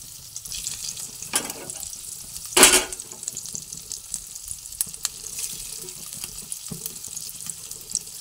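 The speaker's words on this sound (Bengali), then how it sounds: "সেই আলুগুলোকেও তেলের মধ্যে দিয়ে দিলাম" Boiled potatoes frying in hot oil in a pan, soft continuous sizzle with a few sharper scraping stirs, quiet and close.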